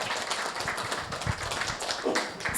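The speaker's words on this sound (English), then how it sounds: "So please, please give the older adults, all seniors, a round of applause" A round of applause for older adults at an art exhibition: scattered, uneven hand clapping from a modest crowd, individual claps standing out with a few louder taps near the end.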